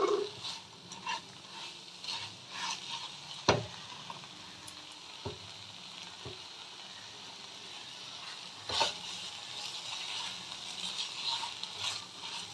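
Fried lentil dumplings being stirred into cooked fenugreek greens and aubergine, a low continuous sizzle broken by several distinct knocks and scrapes of a spoon against the pan, fairly quiet with no talking.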